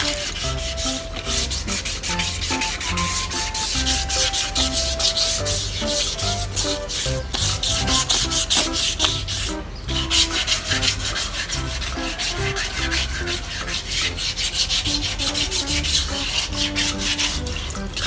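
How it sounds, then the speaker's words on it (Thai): Steady abrasive rubbing as paint is sanded off a Honda PCX motorcycle wheel by hand, a continuous close scratching with slight rhythmic strokes and no talk. "ก็ขัดขัดไปเรื่อย ๆนะครับ จนกว่าแบบสีมันจะด้านนะครับ"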